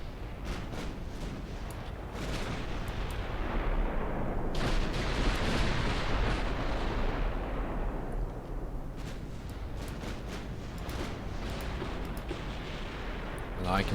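Heavy naval gunfire from battleships in Ultimate Admiral Dreadnoughts, a British 1900-era campaign, pounds at long range as a dense, continuous barrage of booming shots and rumbling explosions that holds steady and loud throughout.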